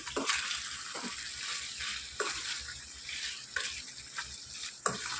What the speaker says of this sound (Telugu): వేసుకొని ఇప్పుడు వీటిని బాగా మిక్స్ చేసుకోవాలి.